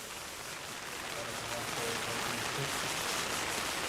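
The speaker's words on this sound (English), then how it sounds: "rain intensifying even more. You can possibly hear it on the shelter that we're stood under." Heavy rain drums steadily on a shelter roof at an outdoor RC car racing track, a dense, continuous hiss that swells slightly louder as the downpour intensifies, with faint voices underneath.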